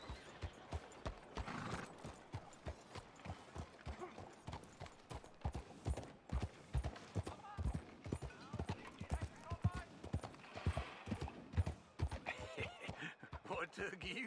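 Horse hooves clip-clop in a steady trotting rhythm through a town alley in Red Dead Redemption 2, with an occasional whinny and someone talking over the footfalls.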